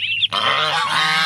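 A white domestic goose on a farm honks loudly nearby, one sharp call followed by a longer harsh honk, with no talk over it.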